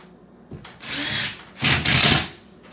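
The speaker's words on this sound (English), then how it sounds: "I'll put in a screw there, only about halfway" A power drill drives a screw partway into drywall to hold a hole patch, with two bursts of whirring separated by a short pause and ending quickly, close and loud.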